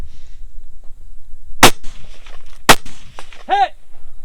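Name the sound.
gunshots at a shooting competition stage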